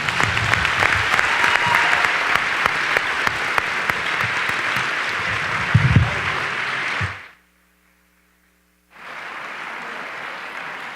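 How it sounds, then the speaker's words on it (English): An audience at a panel Q&A with Lawrence Lessig and Martin Gilens applauds the speakers, with thick, sustained clapping for about seven seconds that cuts off into silence before low room noise returns. "A round of applause for our speakers"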